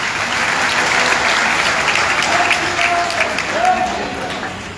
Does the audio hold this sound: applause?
yes